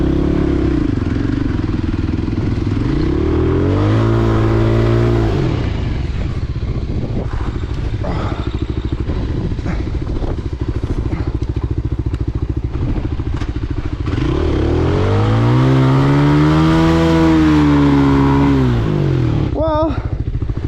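A vehicle engine revs hard in two long surges with wheels spinning on soft desert ground, the pitch climbing and falling each time, with clattering and thuds between the bursts and close and loud throughout.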